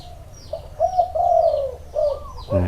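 A spotted dove coos in a soft, rhythmic series of low notes, close and clear against a quiet background, with faint chirps from other birds.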